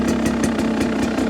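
A 2022 Beta 300 Race Edition two-stroke dirt bike idles in a warm shop, its engine putting out a steady loud burble with rapid regular pulses, close up and without any talking.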